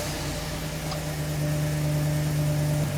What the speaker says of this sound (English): now I'm gonna start the engine so we can analyze the data